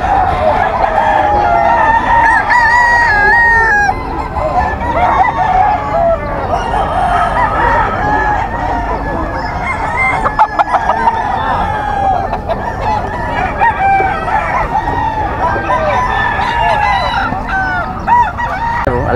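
Sweater gamefowl roosters at a game farm crow loudly and repeatedly, several birds overlapping in long calls, with clucking and farm bustle in the background.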